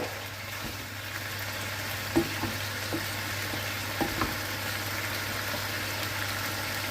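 Noodles and meat tossed with sauce in a hot pan give a steady sizzling hiss, with a few light clinks of the spatula, all at an even moderate level with no talking.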